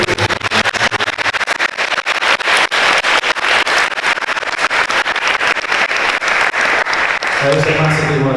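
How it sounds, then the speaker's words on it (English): An audience at a panel discussion on psychedelia gives sustained applause, dense and steady clapping that fills the room for several seconds. "A round of applause to George as well."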